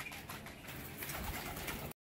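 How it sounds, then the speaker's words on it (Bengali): Pigeons and their chicks feeding from a tray of wheat, soft low cooing mixed with faint pecking and rustling, heard close and quiet, cutting off abruptly at the end. "কবুতর বা কবুতরের বাচ্চাগুলো এখন খাবার খাচ্ছে"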